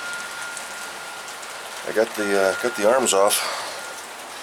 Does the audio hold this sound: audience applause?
no